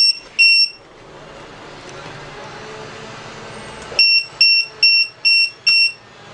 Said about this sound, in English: it will alarm, the blue LED will flash